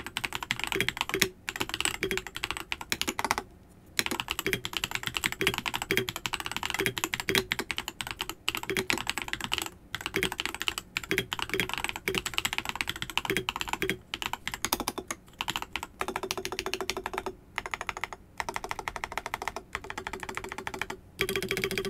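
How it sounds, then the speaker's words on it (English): Fast, continuous typing on a Keychron V6 custom mechanical keyboard fitted with baby kangaroo switches, giving dense, close clacking keystrokes with a few brief pauses and no voices. "These baby kangaroo switches are actually really good to type on."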